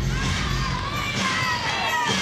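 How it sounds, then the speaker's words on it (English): Loud crowd cheering and shouting fill a taekwondo match arena, a dense, continuous roar of voices. "all the cheering in the crowd"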